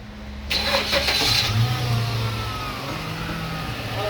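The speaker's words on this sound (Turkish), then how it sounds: "Kompresörü test edeceğiz. Aracı çalıştıralım." A Mercedes S-Class with an Airmatic suspension fault cranks and fires about half a second in, revs briefly, then settles into a steady idle, heard close and loud with no talking.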